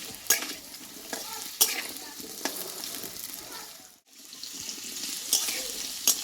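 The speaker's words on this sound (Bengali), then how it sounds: "শুধু তেলে কিন্তু এটা কষিয়ে নেব এটা একটু লাল লাল করে" Boiled potatoes and chickpeas are stir-fried in plain oil in a pan, with repeated scraping stirs and a soft sizzle, moderately close, pausing briefly near the middle.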